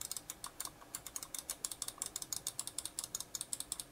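Button clicks from a Hama uRage Unleashed wireless gaming mouse with Omron switches, sounding as quick, crisp, close-up clicks repeated in a fast, fairly even run, with no talking.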